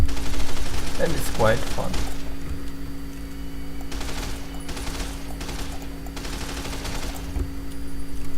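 Full-auto converted weapon in Fallout: New Vegas fires in several short bursts separated by gaps, with someone briefly talking over the start.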